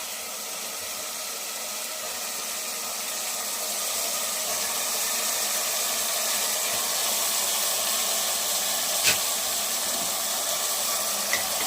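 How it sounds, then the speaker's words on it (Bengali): Mutton mince braises with spices in a cooking pot, giving off a steady hissing sizzle that swells slightly and holds, with one brief clink near the end. "এবার এই মাংসটা দিয়ে ভালো করে কষাবো।"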